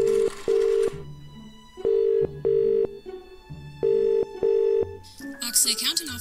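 A telephone line gives a series of tones: short dialing beeps, then repeated steady tone pulses like ringing or a signal, evenly spaced and clear, ending with a brief burst of a voice on the line.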